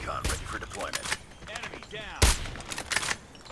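Rapid gunfire bursts from a J358-Fin Funnel V Gundam gun in Call of Duty Mobile, several quick volleys with one loud sharp blast near the middle, heard amid game sound effects.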